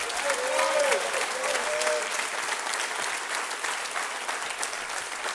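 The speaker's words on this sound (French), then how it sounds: "Applaudissons chaleureusement les finissantes et finissants du groupe 502" Graduates of group 502 receive warm applause at the Collège Esther-Blondin 2022 gown ceremony, a sustained crowd clapping that holds steady throughout, with a brief voice near the start.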